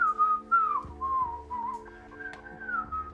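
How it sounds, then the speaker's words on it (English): A man whistles a wandering tune in several short phrases, clear and close, over a low steady hum with a few soft knocks in the background. "Is he whistling?"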